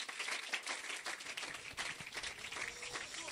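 Church congregation at a bilingual French and English service applauds, a dense, sustained wash of clapping from many hands in a reverberant hall, with faint voices mixed in.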